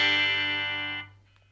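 Electric guitar chord from a Telecaster's bridge pickup through an amp, a single bright, overdriven strum ringing out for a second before being muted, leaving a faint low hum.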